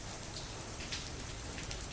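Steady heavy night rain falls in a dense, even hiss over a village, with scattered drops pattering close by, no voices present.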